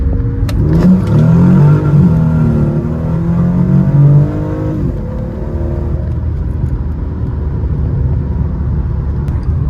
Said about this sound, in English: 1st gear to 2nd gear, it is butter smooth. It's crazy fast.